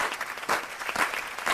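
A short burst of crowd applause dropped in as a sound effect, dense clapping that swells and holds at moderate volume for under two seconds.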